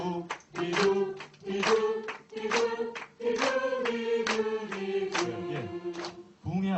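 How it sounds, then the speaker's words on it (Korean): Rhythmic hand claps land at steady intervals during a music lesson, mixed with group singing of a pitched melody that runs underneath nearly throughout. "박수 치면서 합니다. 박수 치면서 시작."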